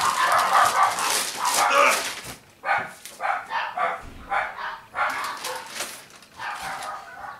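Dogs bark repeatedly close by, loud yapping bursts in quick succession with a few whimpering yips mixed in.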